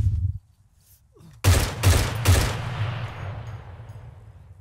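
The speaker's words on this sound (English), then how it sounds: "Oh, we're taking fire!" Several loud, overlapping bursts of gunfire in the video game ArmA 3 crack out in a quick cluster after a near-silent pause, then a long rumbling echo tails away.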